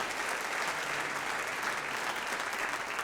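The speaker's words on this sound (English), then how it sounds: "let's give the board and our constituent leadership a round of applause for that commitment" A convocation audience gives a steady round of applause for the college district board and constituent leadership, dense even clapping from many hands that fills the whole stretch without letting up.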